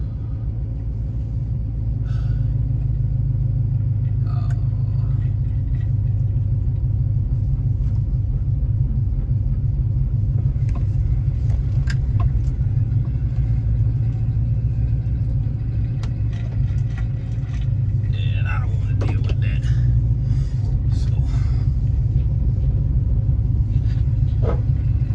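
Chevy Silverado (2007–13, high mileage, about 230,000) idling at a packed truck stop with a heavy low rumble and steady engine drone, plus occasional faint clicks and background sounds from the lot, no talking.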